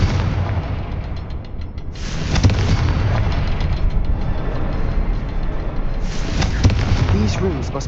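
Confringo fire spells cast in Hogwarts Legacy, bursting loudly at about two seconds and again near six seconds over a steady, dense rumble of game ambience and effects.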